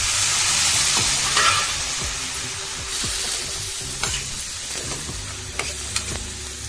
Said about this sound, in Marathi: आणि आता आपण ही भाजी टाकणार आहोत